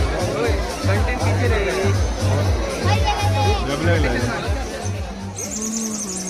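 Dense crowd babble at a Hindu temple fair (jatra) for Shri Devi Sateri Bhadrakali in Aronda, many overlapping voices and children's shouts forming a steady, close hubbub throughout, with a low rhythmic thumping underneath.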